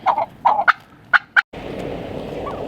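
Farm turkeys gobble in several sharp bursts, close and loud, with short pauses between calls, followed by a steadier wash of outdoor background noise.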